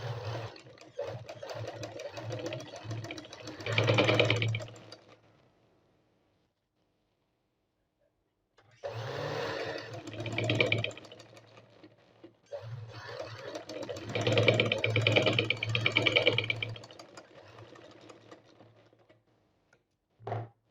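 Sewing machine stitching fabric for a Tarpai stitch, running in bursts with a steady mechanical hum and rapid needle ticking, stopping for a few seconds of silence before resuming, fairly close and alone.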